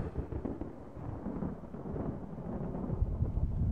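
Rolling thunder after lightning in the horror video game Call of Cthulhu: Dark Corners of the Earth, a deep, continuous rumble that swells and grows louder toward the end, with no voices over it.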